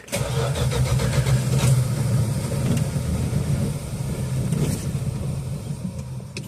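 A 1969 Dodge Dart that sat six months on old ethanol gas cranks and catches, its engine running loud and close with a steady mid-range rumble and a few sharper bursts as it settles toward idle.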